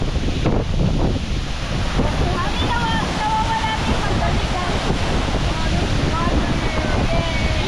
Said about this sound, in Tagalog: lakas na ng hangin yun dito